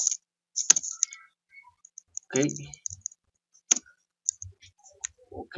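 Scattered clicks of keys being pressed on a computer keyboard, in short irregular bursts, with a brief spoken word near the start.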